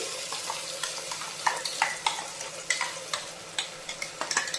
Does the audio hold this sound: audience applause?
no